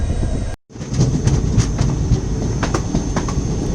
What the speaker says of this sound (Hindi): arriving at Annigeri railway station.